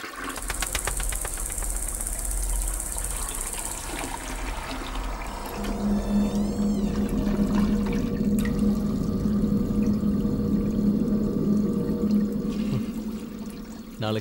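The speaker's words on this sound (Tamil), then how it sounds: "ஃப்ளஷ்ல ஏதோ ப்ராப்ளம்" A faulty toilet flushing: water rushes and pours steadily for several seconds, with a sustained gurgling, trickling flow and a low humming tone underneath, fairly loud and close with no talking.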